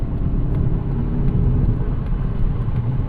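A 2024 Mazda 3 Turbo AWD is heard from inside the cabin as it accelerates to pass cars on the road, giving a steady, loud low engine and road rumble with no talking.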